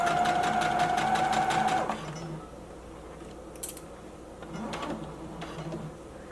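A sewing machine runs steadily for about two seconds, stitching a drawstring elastic-waist maxi skirt, with a strong mechanical hum and rapid needle rhythm that then stops, leaving quiet room noise and faint handling sounds.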